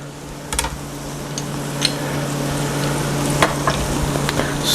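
Bacon, onions and garlic sauteing in a pan, a continuous close sizzle and crackle with occasional sharp pops and faint stirring scrapes throughout.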